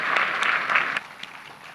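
A small audience at a Shakespeare school performance claps for the students in a brief, moderate burst that quickly thins out and fades within two seconds.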